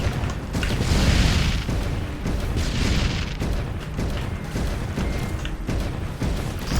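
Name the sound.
antimatter bomb explosion in video game X-Morph Defense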